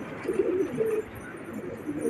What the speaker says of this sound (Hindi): देखिए कबूतरों कैसा गुटकते हैं दोस्तों